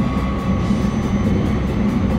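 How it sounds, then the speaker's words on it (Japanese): Electric traction motors hum steadily beneath a JR East Hitachi limited express as it accelerates on the Joban Line, a loud continuous drone layered with rumbling wheel noise from inside the carriage. "このようにモーターの音が聞こえてきますが"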